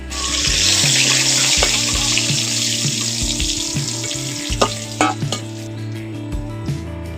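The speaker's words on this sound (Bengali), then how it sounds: "এবার ওই তেলের মধ্যে ফুলকপিগুলো ভেজে নেব।" Cauliflower florets frying in the same hot oil, already seasoned with salt and turmeric: a strong, steady sizzle close by that gradually eases, with sharp utensil clinks and scrapes near the end over a faint melodic background.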